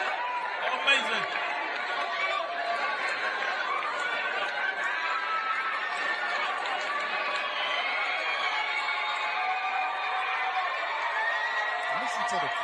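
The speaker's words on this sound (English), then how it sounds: "Listen to the crowd." Comedy show audience keeps up a dense, steady wash of chatter with scattered snickers and chuckles, a crowd murmur that stays level and close throughout.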